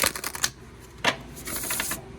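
A deck of oracle cards is riffle-shuffled in quick, rattling bursts: a flurry at the start, a sharp burst near the middle, then a longer softer riffle, close and clear without talk.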